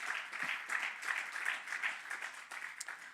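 A church congregation claps steadily and continuously for a few seconds during a sermon, a dense wash of applause with no voices standing out.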